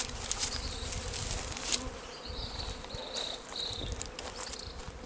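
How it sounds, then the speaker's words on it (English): Honey bees swarm and buzz around a queen bee being moved into a new hive box in Jamaica, a dense, steady droning hum with higher whining passes close by, no talking. "they're just thinking about just go ahead and putting it, that bee into there, the queen bee into there, and just giving her a new house."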